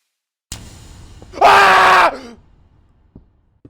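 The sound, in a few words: entity screaming angrily in Minecraft video game footage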